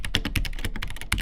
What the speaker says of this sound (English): this is another linear switched keyboard with a generic red switch in it, which feels very mushy to type on